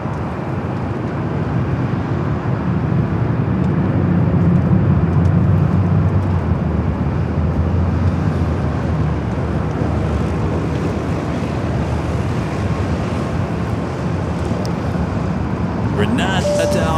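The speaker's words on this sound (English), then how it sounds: "That's the flight coming in from JFK." A passenger airplane arriving at LAX from JFK, a loud, steady broadband jet roar that holds for the whole stretch without breaks, close and continuous.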